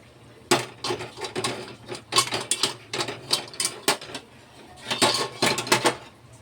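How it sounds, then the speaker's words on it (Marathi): Paneer curry is stirred in a pan, the spoon scraping and clinking against the metal in irregular bursts of quick strokes, close and fairly clear, with brief pauses between them. "आता हे छान हलवून घ्यायचे"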